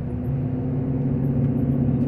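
A Volvo truck's retarder holds it back on the divided BR-381 highway, a steady loud engine rumble with a low droning hum and road noise throughout.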